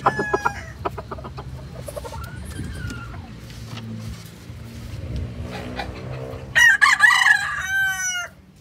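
A gamefowl rooster crows once, loud and near, near the end of a farmyard scene, after a stretch of low background rumble and faint bird calls. Quiet talk runs underneath.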